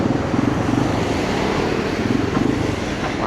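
Fast cars and trucks rush past on a busy road near a flyover, a steady loud roar of traffic with no voices.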